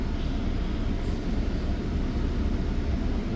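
A CN freight train rolls westbound near Dorval in Montreal, a steady, loud broadband rumble and rush that holds without pause or any talking.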